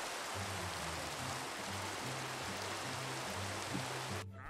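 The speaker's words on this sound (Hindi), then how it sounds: "बारिश काफ़ी हो रही है" Steady rain pours down in Minecraft at night, a dense even hiss that fills the whole clip, with a soft repeating low-pitched game tone beneath it and a brief drop near the end.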